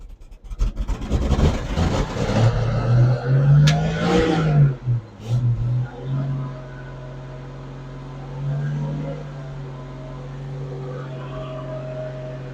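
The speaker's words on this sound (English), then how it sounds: "I'll make an attempt to start the truck back up just for a short period" A truck engine with a fuel-leaking carburetor and suspected stuck float cranks, catches and revs in loud uneven bursts, then settles into a steady idle hum with a brief rise midway.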